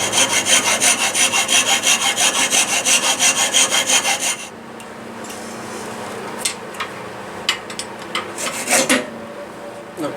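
A hand saw cuts through cherry wood while making a piston whistle, giving about four seconds of steady rhythmic back-and-forth strokes close up, followed by quieter scraping, tapping and a few knocks of handling.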